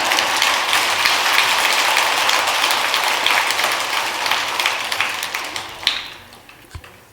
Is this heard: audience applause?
yes